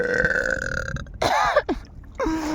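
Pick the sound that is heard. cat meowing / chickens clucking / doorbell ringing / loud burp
loud burp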